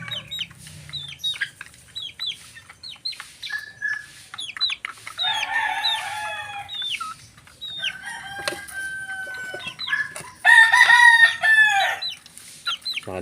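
Cockerels crowing in a backyard breeding setup in the morning, several drawn-out crows from different birds overlapping with scattered clucks and chirps, fairly close, and no speech.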